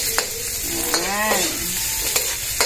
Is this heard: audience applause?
no